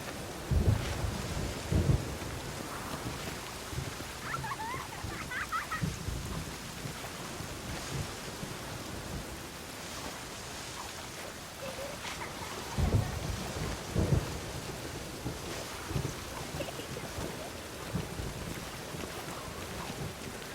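Steady rain with rolling thunder and gusting wind in The Witcher 3, with two louder thunder rumbles standing out from the constant downpour.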